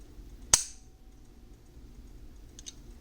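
A single sharp snap of a Browning Hi-Power pistol's long, rough trigger pull near the start, then a faint pair of small reset clicks about two seconds later, against a quiet background.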